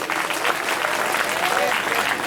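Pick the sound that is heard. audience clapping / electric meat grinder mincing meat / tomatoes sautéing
audience clapping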